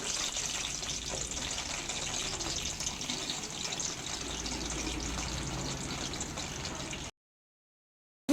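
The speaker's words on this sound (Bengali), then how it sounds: "গরম তেলে পটলগুলো প্রথমে লাল লাল করে ভেজে নিচ্ছি" Pointed gourd (potol) pieces fry in hot refined white oil, a steady, close, dense sizzle that runs for about seven seconds and then cuts off to silence.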